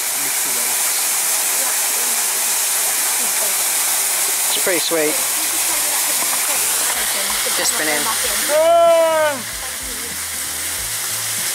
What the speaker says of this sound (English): This waterfall's great.